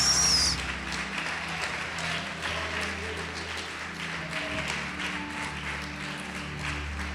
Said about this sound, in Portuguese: Pode aplaudir e glorificar Deus.